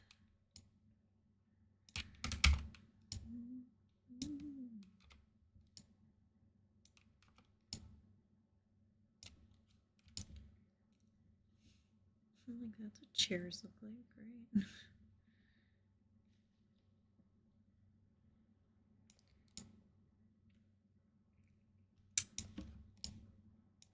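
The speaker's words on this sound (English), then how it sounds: "sorry if you hear me clicking, tapping, everything else. This mic picks up everything." Computer mouse clicks and keyboard taps come as sparse, sharp, close clicks with quiet gaps between them, picked up by a sensitive desk microphone. A person mutters a few words partway through.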